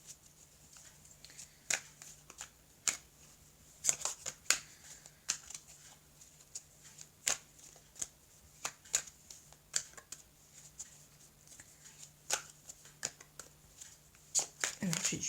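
Tarot cards being shuffled and handled in a quiet room, sporadic crisp flicks and papery snaps spread irregularly over a faint steady hum.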